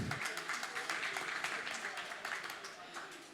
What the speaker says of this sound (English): So also give her a round of applause.